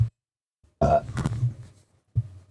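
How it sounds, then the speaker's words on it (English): A person gives a loud, close burp into a microphone, a deep drawn-out belch between short bursts of other throat sounds. "Let me burp first."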